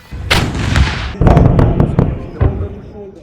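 Indian Army artillery firing at the Devlali field firing range: loud, booming blasts in quick succession with heavy rolling rumble and echoing cracks, close and powerful, with a few sharper reports trailing off.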